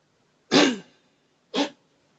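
Two short, harsh coughs or throat-clearing bursts from a camel, about a second apart, the first longer and stronger, the second brief, near and clear against a quiet background.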